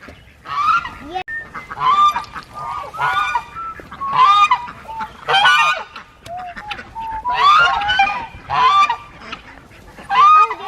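Geese honking loudly and repeatedly nearby, several calls in quick overlapping bursts throughout.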